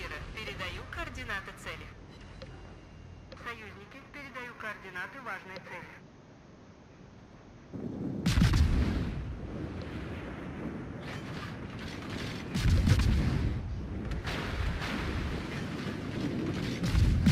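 Naval guns firing from the Harugumo destroyer in an online warship battle game, with two heavy booming salvos rumbling out over a steady engine-like drone while a person talks through much of it.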